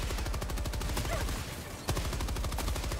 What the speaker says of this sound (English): Okay, machine gun versus the bottom of a Strider.